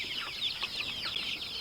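Chickens at a homestead chicken house cluck continuously in overlapping, high-pitched calls, a steady moderately loud flock chatter with no one speaking.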